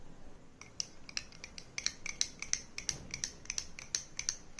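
A spoon stirring lemon juice, squeezed from two lemons, into a drink in a glass, heard as a quick series of bright metallic clinks and scrapes, close up and with no talk.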